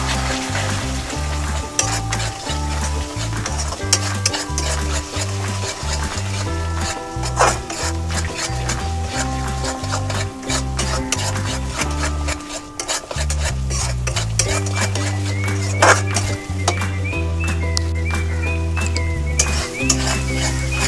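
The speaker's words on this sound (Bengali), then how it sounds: "আমি একটু কাশ্মীরি লঙ্কার গুঁড়ো দিয়ে দেব কালারের জন্য। ভালো করে কষিয়ে নেব।" Egg curry masala with Kashmiri chilli powder stir-fried in a pan, a continuous sizzle with scraping and stirring clatter from a utensil, close and loud under a backdrop of music.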